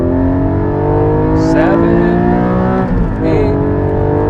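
A Porsche Cayman GT4 with a manual gearbox pulls hard from low revs, the engine note climbing steadily in a loud, harmonic-rich wail, with a brief shift-like dip partway through and someone speaking over it.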